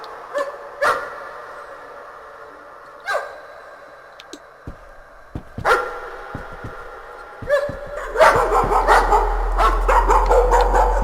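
A dog barks in the horror video game Layers of Fear, with several sharp, loud barks spaced apart, then a denser burst of rapid barking and yips over a low rumble near the end.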